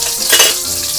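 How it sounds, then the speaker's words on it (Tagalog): Milkfish (bangus) frying in a pan: a brief, close, bright crackling sizzle that swells briefly in the middle, with no talk. "nagluluto po ako ngayon ng pritong bangus"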